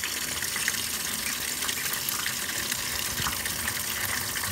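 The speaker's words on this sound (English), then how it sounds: "It's filling up with some rinse water," Water gushing steadily into a Speed Queen washing machine as it fills with rinse water, a constant hissing rush heard alone for the whole stretch.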